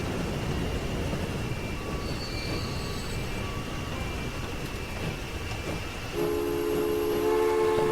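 A train rolls along in the video game Transport Fever with a steady low rumble and faint tonal whine, joined near the end by a sustained horn-like tone.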